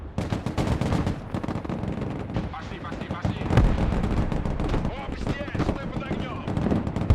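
Mortar rounds and gunfire crash in the war video game Broken Arrow, a dense barrage of booming impacts and rattling shots that runs continuously, with a heavy blast near the middle, while a man reacts loudly over it.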